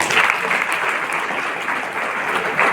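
Applause at a Shivaji coronation anniversary event at a government training institute hall, steady dense clapping from a large seated crowd, sustained evenly throughout and moderately loud.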